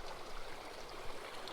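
Small trout creek flowing in a steady, even wash of water with a light gurgle, close and continuous, no voices over it.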